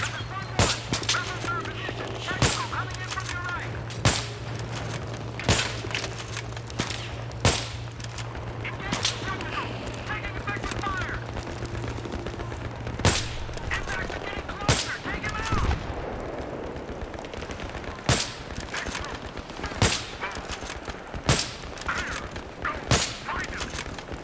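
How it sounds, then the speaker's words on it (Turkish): An automatic gun turret in Battlefield 3 fires on its own, sharp gunshots cracking out in irregular bursts across a busy battlefield din, with a low drone early on and voices talking in between. "Makine kendi kendine atış ediyor."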